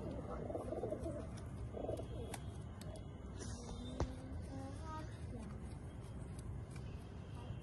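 A pigeon kept for tournament racing coos softly in the background, a low, muffled call partly buried under steady noise and faint voices.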